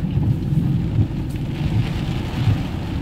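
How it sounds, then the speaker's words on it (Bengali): Monsoon rain falls steadily in Kolkata, a dense, even hiss with a low rumbling undertone that holds without pause throughout, loud and near, with no voices. "এখন কিন্তু হাওয়াটা সেই অর্থে নেই, বৃষ্টিটা আছে"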